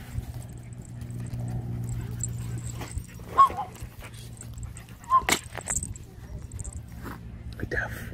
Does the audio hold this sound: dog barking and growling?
yes